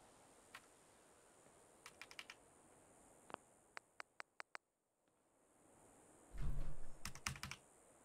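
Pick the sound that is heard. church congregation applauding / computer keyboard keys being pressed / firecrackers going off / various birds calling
computer keyboard keys being pressed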